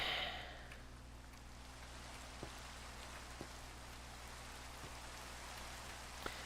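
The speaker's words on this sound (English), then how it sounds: "It's raining" Faint, steady rain hisses quietly and evenly, with a few soft isolated drip taps now and then.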